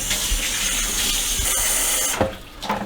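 Hot water runs steadily from a tap into a pot for mac and cheese during Thanksgiving cooking, a loud continuous hissing splash that stops abruptly near the end.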